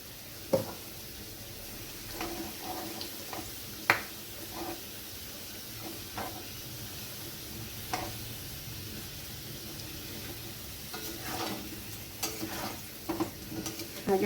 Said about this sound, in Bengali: দুটো তেজপাতা ফোড়ন, দিয়ে দিচ্ছি গোটা গরম মশলা ফোড়ন